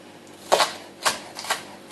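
A kitchen knife slices a leek into julienne strips on a cutting board, giving four crisp, close chopping strokes spaced about half a second apart.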